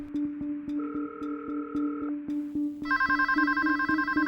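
A telephone ringback tone after a call is forwarded, with a steady repeating ring pattern followed by a brighter, higher electronic ringtone toward the end, clear and close with no talking.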